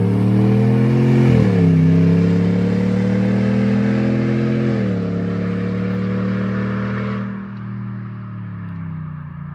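A Dodge Ram pickup accelerates hard from a standing start, its loud, close engine roaring and climbing in pitch, dropping briefly at each gear change before pulling on again.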